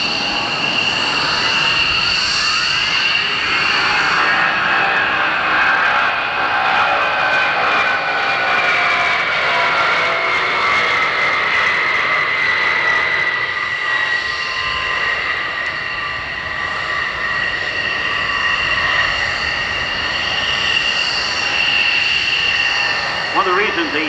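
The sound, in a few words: aircraft flying at the Westover Airshow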